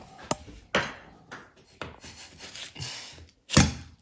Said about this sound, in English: So you just want to take the end off like that.